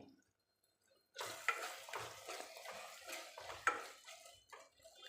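After a brief near-silence, tomatoes with salt, cooking for Surti bhaji pav, are stirred in a pan: a soft sizzle with close scraping and a couple of light metallic clinks, fairly quiet overall.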